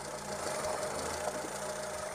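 A Renault 11 GTL petrol engine idles roughly with its air filter removed, a steady close-up knocking, uneven rumble that runs continuously without speech.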